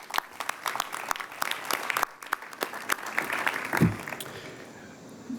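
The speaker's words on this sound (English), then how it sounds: "So Bill, for that, I applaud you." An audience claps at an elementary school ribbon cutting, a scattered burst of applause that holds steady for several seconds before thinning out.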